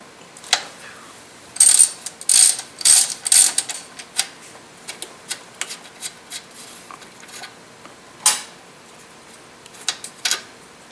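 A ratchet loosens alternator bolts on a Dodge 4.7L engine, with close, loud clicking bursts in the first few seconds, then sparser single ratchet clicks and light metal handling.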